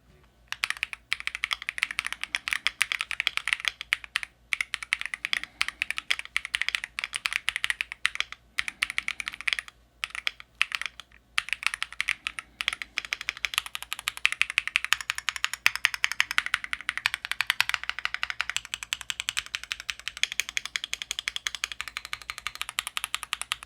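Typing on a Tide65 mechanical keyboard with an aluminum case: dense, rapid runs of keystrokes with short pauses between bursts, close and clear, alone without talk.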